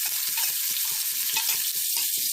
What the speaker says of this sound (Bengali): আদা কুচি দিয়ে নেড়ে চেড়ে